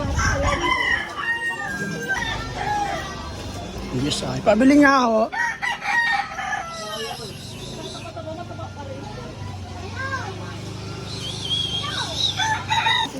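Roosters crow repeatedly among clucking chickens and other birds, with people talking nearby over a steady outdoor background.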